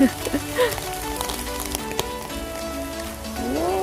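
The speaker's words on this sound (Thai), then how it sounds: "ฝนก็มาแรงเช่นกัน" Heavy rain falls on the heather fields at Ten Haagdoorn in Limburg, Belgium, a close, constant patter with a voice and some tonal sounds on top.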